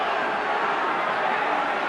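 Featherstone Rovers fans at the 1989-90 Yorkshire Cup rugby league final against Bradford Northern jeer a referee's penalty decision, a steady loud crowd roar that holds throughout.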